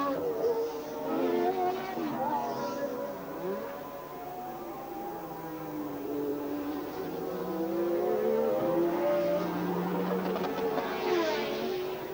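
Formula 1 race cars at the 1981 Dutch Grand Prix, engines wailing and sweeping up and down in pitch as they pass, with commentary running over the sustained motor noise.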